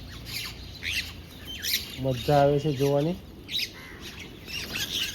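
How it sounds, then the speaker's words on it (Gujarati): Small sparrows and other birds call from a drumstick tree with scattered chirps and one loud, drawn-out squawk in the middle, while someone talks nearby. "મારા પક્ષી મિત્રો આવી ગયા છે"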